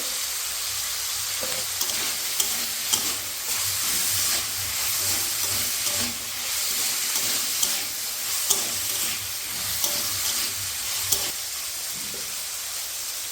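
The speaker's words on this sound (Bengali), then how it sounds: "তো আমাদের সবজিগুলো কিন্তু হালকা ভাজা হয়ে এসেছে" Mixed vegetables with peas fry in a pan under a continuous loud hissing sizzle, with periodic scraping and stirring clatters at an irregular rhythm, close and without voices.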